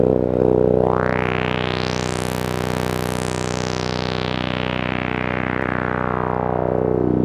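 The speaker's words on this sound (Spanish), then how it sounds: "El filtro suena más o menos así." A sustained synthesizer tone whose filter sweeps open to a bright, buzzy peak and then slowly closes again, loud and steady throughout.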